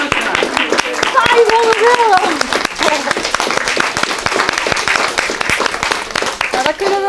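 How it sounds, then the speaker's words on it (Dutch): An audience gives loud, close applause at a green flag eco-team award and cheque presentation, with dense, steady clapping throughout and voices mixed in among the claps. "En een groot applaus."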